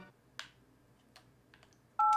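A telephone is dialed in the Thimbleweed Park adventure game, with a few short, separate button clicks followed by a loud, steady dial tone at the end.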